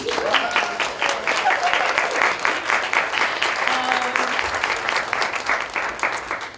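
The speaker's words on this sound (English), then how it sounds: "Give a round of applause for our speakers." Audience applause for the speakers at a panel event in a university hall, a dense, steady wash of many clapping hands lasting throughout with a few faint voices mixed in.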